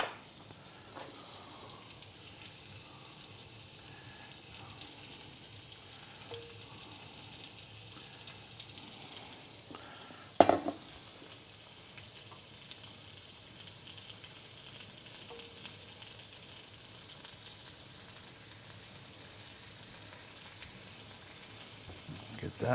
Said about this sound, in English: So we're sauteing those.